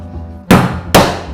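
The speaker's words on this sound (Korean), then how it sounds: "이거 나는 망치를 해볼게." Two sharp, loud hammer strikes on a Vietnamese mud crab shell, spaced about half a second apart, each a hard crack against a quiet background.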